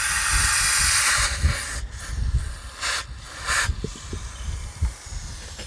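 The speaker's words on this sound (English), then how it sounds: "Couldn't get it with the blaster, so I got my little friend here, brake cleaner." An aerosol can of brake cleaner sprays in a long, loud hiss at close range, followed by several shorter bursts with low knocks and handling noise between them, used on a flat tire.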